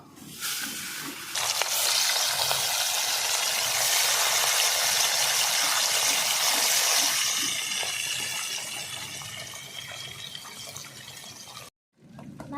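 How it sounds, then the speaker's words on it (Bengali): Small fish rubbed with salt and turmeric dropped into hot oil, setting off a loud, steady sizzling hiss that swells, holds for several seconds, then eases off before a brief gap of silence. "একই সঙ্গে মাছগুলো আমি তেলের পরে দিয়ে দেবো"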